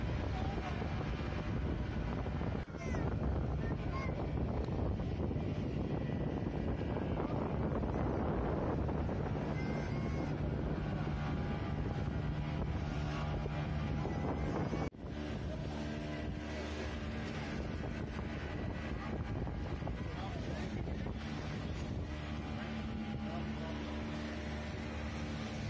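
A boat ride across the sea to St. Mary's Island near Udupi, Karnataka: a steady engine drone is buried under heavy wind buffeting on the microphone, loud and unbroken, with a brief bump partway through.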